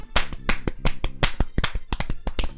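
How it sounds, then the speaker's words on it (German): Quick, fairly regular hand claps ring out close by and loud, a short burst of applause from a small group or a single person, with no talk over it. "Ein Applaus bitte einmal für den"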